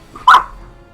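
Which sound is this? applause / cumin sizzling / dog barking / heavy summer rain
dog barking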